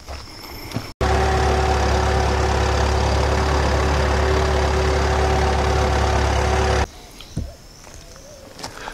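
A tractor engine running at a steady idle, heard as a loud, constant low hum that starts abruptly, holds for about six seconds, then cuts off, with quieter outdoor background before and after.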